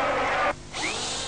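An electric drill boring a hole, a loud whining motor that cuts off abruptly, pauses briefly, then spins up again with a rising pitch.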